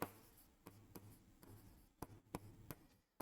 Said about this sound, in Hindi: इसी जगह अगर मैं लिखता हूं रमेश